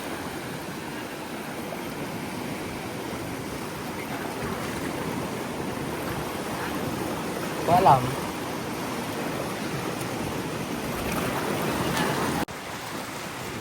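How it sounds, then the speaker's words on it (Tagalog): Strong waves wash steadily onto a beach in a broad continuous roar with a brief louder surge midway, while someone talks over the surf. "Lakas ng alon, guys, oh."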